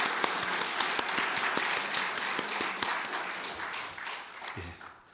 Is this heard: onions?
no